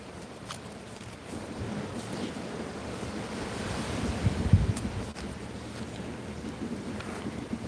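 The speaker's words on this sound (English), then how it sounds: "The sea is uneasy tonight." Uneasy night sea with rough waves washing and surging under steady wind, a broad continuous roar that swells louder midway, with occasional creaks and knocks as if from a boat.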